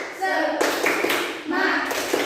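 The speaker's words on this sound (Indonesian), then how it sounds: "Kita tepuk semangat dulu yuk. Tepuk semangat." A classroom group claps out the rhythmic 'tepuk semangat' spirit clap during an elementary science micro-teaching lesson, with voices chanting along over the claps.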